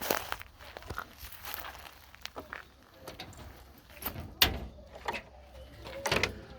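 The door of a pigeon coop is opened with a scrape and several knocking clacks, amid shuffling footsteps and rustling, recorded up close outdoors with faint background voices.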